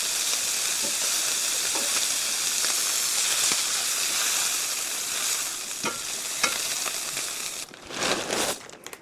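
Pasta gets a stir in a pot of boiling salted water, with a loud continuous bubbling hiss and scattered scraping clicks of the spoon. A few sharper knocks come near the end.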